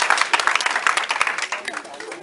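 A congregation at a Pentecostal church service claps and cheers in acclamation as an offering to God, loud energetic applause with voices mixed in.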